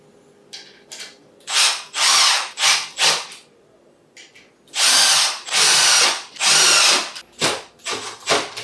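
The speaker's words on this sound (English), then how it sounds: "take your multi-tool or your drill and just tighten them all." Repeated bursts of a power drill whirring in short pulses while tightening screws on a cat exercise wheel, several quick zips followed by longer runs, close and loud with brief pauses between.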